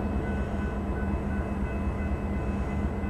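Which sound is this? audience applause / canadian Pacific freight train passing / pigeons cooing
canadian Pacific freight train passing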